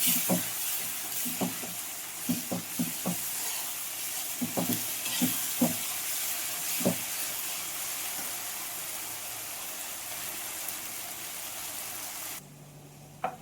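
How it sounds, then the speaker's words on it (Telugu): Turmeric frying in oil in a pan, a steady sizzle and hiss that runs throughout, with a few soft stirring scrapes and clinks near the start before the sizzle drops away at the end. "కొన్ని పసుపు పసుపు వేసుకున్నాక కొద్దిగా వేయించుకోవాలి"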